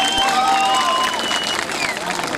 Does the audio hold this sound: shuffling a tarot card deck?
no